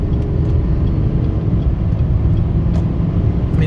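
A 2023 Chevrolet Duramax HD pickup truck accelerates at three-quarter throttle, its steady, loud engine and road drone filling the whole stretch with no talk.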